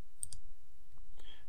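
Computer mouse clicks while building a website layout, two quick close clicks followed by another pair a moment later, faint over a quiet room.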